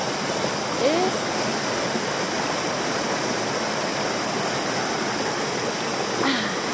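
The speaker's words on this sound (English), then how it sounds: "Do you feel the energy of the waterfall flowing through your veins?" A waterfall pours with a steady, loud rush of white noise that stays constant throughout, with a couple of faint brief voice sounds over it.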